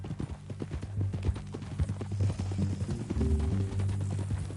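Hooves of a horse clip-clop steadily in Red Dead Redemption 2, a brisk, uneven rhythm of close knocks with a low hum and faint voices underneath.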